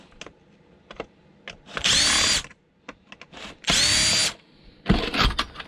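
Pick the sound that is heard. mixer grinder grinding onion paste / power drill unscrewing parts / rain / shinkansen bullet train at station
power drill unscrewing parts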